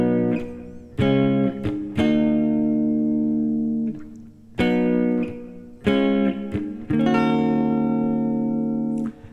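Electric guitar strums out the rhythm part of a song in alternate tuning, with full chords, short muted chops and sustained rings in a syncopated groove, played alone and up close.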